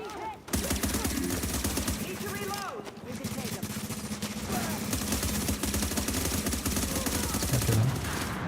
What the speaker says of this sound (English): That's a lot of sniper hits.